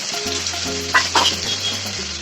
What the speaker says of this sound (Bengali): স্বাদ মতো নুন দিয়ে একটু ভালো করে আলুটাকে ভেজে নিতে হবে